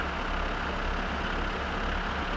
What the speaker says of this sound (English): Let's get this tractor back home.